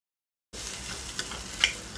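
Tomatoes with turmeric, chili powder and coriander powder sizzle in a pan with cooked onion for paneer bhurji, a steady frying hiss broken by a couple of sharp spoon clicks and stirring scrapes after a brief silent start.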